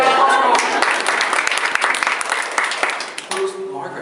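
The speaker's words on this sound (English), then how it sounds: "Give a round of applause for Dylan." Audience applause at a group name game, a dense wash of clapping that stays loud and steady before thinning out near the end, with voices mixed in.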